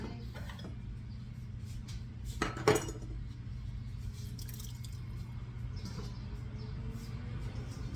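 A paring knife and a bowl are handled in a home kitchen while baking new potatoes: a few light metallic clinks and a sharper knock against steady low background hum, with no talking.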